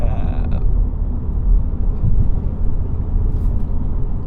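A Mini JCW with automatic transmission and a stock exhaust being driven, its engine a deep, steady rumble heard from inside the cabin, loud and continuous with no talk.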